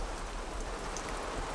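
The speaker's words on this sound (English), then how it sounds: "It's raining." Light rain falls on a shelter camp during a solo overnight, a soft, even hiss of drops with no break, faint and close, with nothing else standing out.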